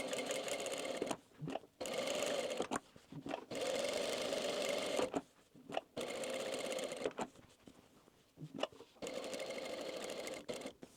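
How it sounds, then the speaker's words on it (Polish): A sewing machine stitches a seam with a double pass back over it, running in several close, steady bursts separated by short pauses. "Czyli zaczynamy szyć"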